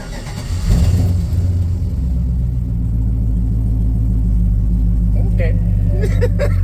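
An LS-swapped Chevrolet C10 V8 with boreless mufflers, heard close up. A sharp rev swells early, then the engine settles into a deep, throbbing idle rumble, and voices break in near the end.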